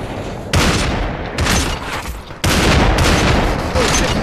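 An enemy player's gun in the game Population One fires in sharp, loud bursts of rapid shots, several volleys separated by brief pauses.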